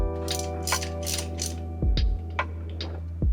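A spark plug being threaded and tightened into a Subaru BRZ / Scion FR-S engine, giving a few short metallic ratchet clicks and taps over a steady low hum, close and fairly quiet.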